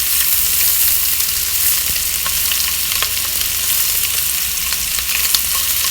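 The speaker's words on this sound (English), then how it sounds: "now I'm gonna sear the sides of them" Pork meatballs sear in a hot pan with a steady, loud sizzle, broken by a few sharp crackles and pops as they are turned onto their sides, no voices heard.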